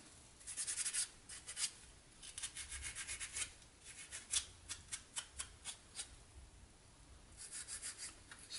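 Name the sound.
scrubbing old paint off a blaster prop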